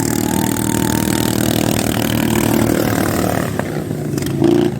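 A small ride-on lawn mower racing engine drones steadily nearby at the French ride-on mower racing championship in Thaumiers, its pitch wavering, then revs up briefly near the end.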